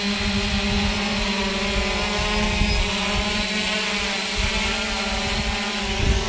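A small UWB-positioned drone hovers in place with no GPS, giving a steady, continuous motor buzz with a low drone underneath, close and fairly loud throughout, with no one speaking.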